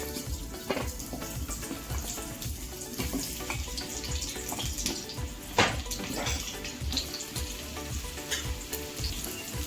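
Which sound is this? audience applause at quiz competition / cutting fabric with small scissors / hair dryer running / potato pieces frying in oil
potato pieces frying in oil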